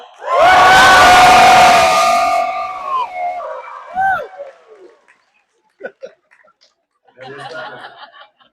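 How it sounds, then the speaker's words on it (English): A convention panel audience at Fan Expo Canada screams and cheers loudly for about two seconds, then fades into scattered whoops, laughter and a few voices. "you're all going to scream as loud as you can"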